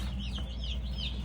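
Baby chicks chirp in thin, high peeping calls, a few repeated cheeps over a constant low hum, close by and fairly faint.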